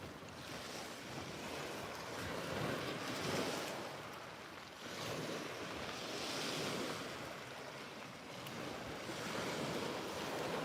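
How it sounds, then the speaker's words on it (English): Wind gusts over a beach at Selsey on a fishing trip, a steady broadband roar swelling and easing with surf washing in behind, loud and close to the microphone with no talk. "There's quite a bit of wind, to be fair."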